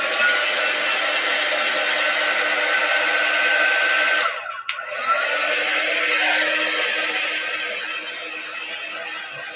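A hair dryer blows steadily and close up while drying chalk paste on a garden flag stenciled with a bow trellis pattern, its whine dipping briefly midway as it is moved or switched, then running on continuously.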